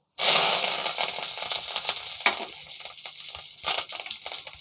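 Finely chopped curry leaves dropped into hot oil with tempering seeds, bursting into a sharp loud sizzle that slowly fades to an uneven crackle with small pops, close and without talk.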